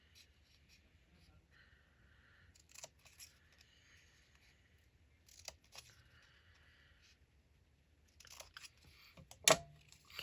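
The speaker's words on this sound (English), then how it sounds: "so just cut on one side" Scissors snip through paper while making mini craft pieces for a haunted bookcase decoration, a few separate quiet cutting bursts with soft paper rustles between them, near and close, with no talk.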